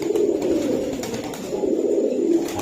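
Royal Teddy pigeons at a pigeon market give low, rolling coos in a repeated rhythm, close and fairly loud, with no talk.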